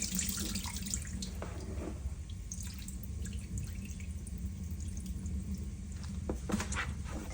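Tap water runs steadily into a sink as raw fish is rinsed, a close, continuous splashing hiss with small irregular splatters and drips, no talking over it.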